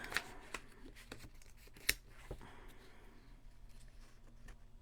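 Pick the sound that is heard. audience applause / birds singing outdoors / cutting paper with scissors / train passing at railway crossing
cutting paper with scissors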